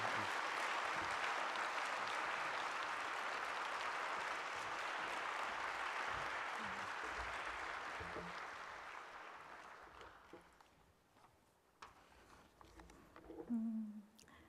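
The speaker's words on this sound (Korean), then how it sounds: "한번 크게 격려로 박수해 주시면 좋겠습니다" A church congregation applauds a returning Cuba missionary with sustained, fairly distant clapping that gradually thins out after about ten seconds. Faint scattered sounds and a soft voice follow.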